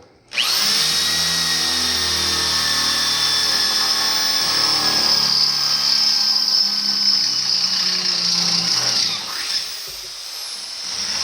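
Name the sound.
power drill drilling through truck frame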